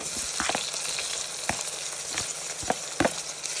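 Onions frying in a pan give a steady, continuous sizzle, broken by a few sharp scrapes or stirs near 1.5, 2.7 and 3 seconds; close and fairly loud, with no talking.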